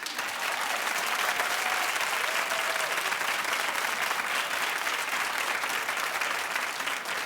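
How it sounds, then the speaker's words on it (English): Steady, dense applause from a television talk show studio audience, continuous and even for several seconds with no voices over it. "Clap if you think he's wrong."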